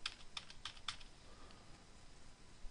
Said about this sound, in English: clicking on the end and pressing the Enter key 3 or 4 times.